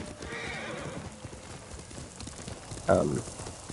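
Horse in the video game Ghost of Tsushima, galloping with quick rhythmic hoof clip-clops, then letting out a loud close neigh near the end, with someone talking over it.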